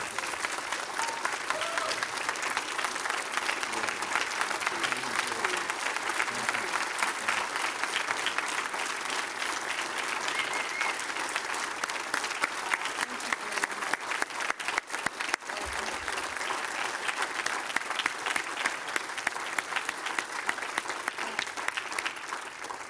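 Applause fills a city council chamber, a steady sustained clapping from a roomful of people that carries on for the whole stretch at moderate level, with no break or fade.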